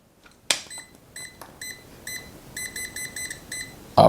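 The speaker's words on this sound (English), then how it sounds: "if it's beeping, that means, of course, it's not level" Short high-pitched electronic beeps from a self-leveling laser level signalling it is not level repeat in quick irregular bursts, fairly close, over quiet background with a few clicks.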